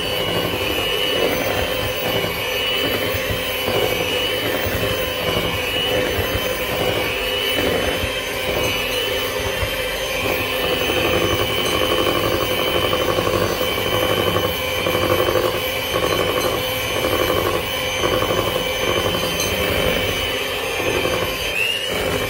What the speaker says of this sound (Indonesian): untuk mixer ini tidak perlu menggunakan kecepatan tinggi ya, karena kalau menggunakan kecepatan tinggi hasilnya malah tidak bagus ya